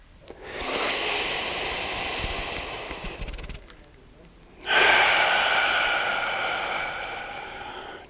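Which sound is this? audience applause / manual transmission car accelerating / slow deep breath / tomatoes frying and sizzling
slow deep breath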